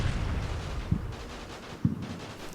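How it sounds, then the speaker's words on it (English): Mortar firing in the Combat Mission video game, two dull thumping launches about a second apart over a steady rumbling battlefield background. "Our mortar fires at something."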